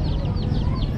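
Chicks cheep at a young peddler's street stall in Iran ahead of Nowruz, high thin chirps repeating steadily over a loud, continuous bustle of street noise.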